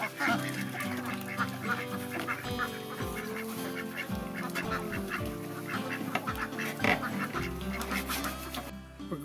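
Ducks quack and honk loudly around a duck house, a dense, overlapping chorus of repeated calls close by, with a person talking intermittently among them.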